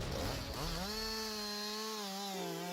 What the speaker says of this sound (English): To break timber down into sections that are easier to transport, one tool stands out: the chainsaw.